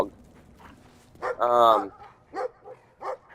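The dog in the video game Brothers: A Tale of Two Sons lets out a few short barks and a longer whining yelp at moderate loudness, alongside brief muttering from a player.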